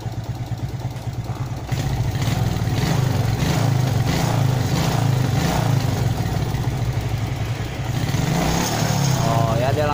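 A motorcycle engine with a carburetor fault revs up from idle, running loud and close with an uneven, rough rhythm before settling back down.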